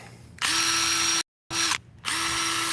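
A DeWalt XTREME 12V brushless impact driver runs in high mode. Loud, steady high-speed whirring comes in close bursts, broken by a clean stop and a short pause before it revs up again.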